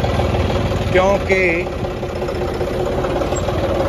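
A parked tractor idles on a farm beside a potato field and green basmati rice, its low, steady engine rumble running through the whole stretch, close by and continuous under a man's brief speech.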